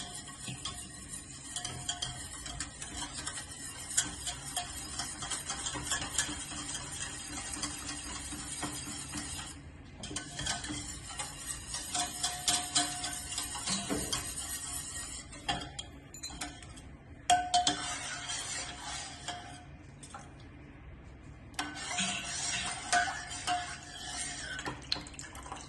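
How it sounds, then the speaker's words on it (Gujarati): Half a litre of milk being stirred with powder in a pot, a steady clinking, scraping churn that runs for long stretches with brief pauses, close and moderately loud with no talking. "અડધો લીટર જે દૂધ છે એ નાખીશું અને એને બરાબર હલાવી લેવાનું"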